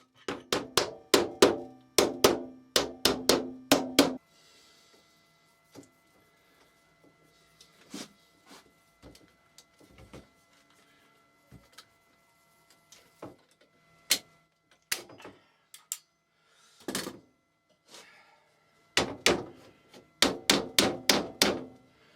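A staple gun fires staples through Enviro mesh into the inside face of a wooden poly vent frame, in rapid bursts of sharp, close clacks at the start and end, with scattered single shots and softer handling in between.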